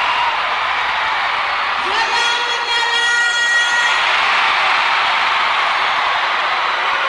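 At a concert, a dense, loud crowd roar fills the venue while the singer briefly shouts out over it through amplification, the cheering continuing steadily throughout.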